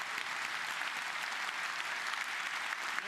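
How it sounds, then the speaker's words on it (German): An audience applauds a winning team at a prize-giving, a dense, even wash of clapping that holds steady throughout without any speech. "ein großer Applaus für unser Gewinnerteam"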